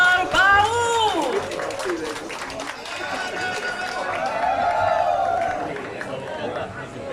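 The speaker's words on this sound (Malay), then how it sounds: "sekali lagi tepukan gemuruh kepada Kampung Opar Baru" A crowd claps and cheers amid general hubbub at an annual cultural event in Sarawak, with a voice speaking over the applause for several seconds.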